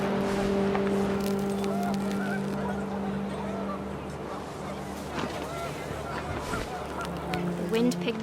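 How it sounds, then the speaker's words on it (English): Panicked geese honk in the video game What Remains of Edith Finch, a busy flurry of calls over a steady low hum and wind, with a voice speaking throughout. "The wind picked up and panicked geese appeared and quickly went."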